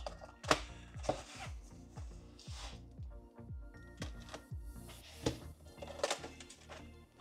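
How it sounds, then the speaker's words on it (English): A Swiss Army knife slices through packaging tape on a parcel: a run of quick, rhythmic scratchy cuts and taps, close and fairly quiet, with a few sharper clicks and no talking. "Here's my trusty Swiss Army knife. Be careful, just cut the tapes."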